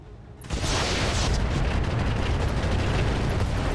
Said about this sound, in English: we could fire the Rocket 20